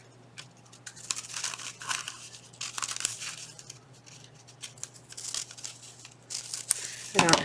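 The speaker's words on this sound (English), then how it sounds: "I don't have serration for the other edge, but we'll just tear it" Craft paper is torn along its edge by hand in a series of short, close ripping and crinkling bursts, with a steady low hum beneath.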